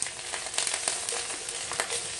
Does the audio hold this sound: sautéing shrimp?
yes